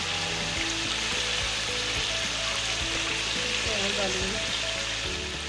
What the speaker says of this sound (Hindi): ये गोश्त फ्राई हो जाएगा